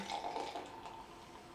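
Beer pours steadily into a glass with a soft, bubbly splashing and fizz, quiet and close, fading slightly toward the end.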